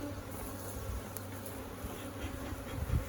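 A dense, steady drone of many buzzing honey bees, close up, with a few louder passes near the end.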